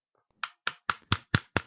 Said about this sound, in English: Expensive clapping for VKET.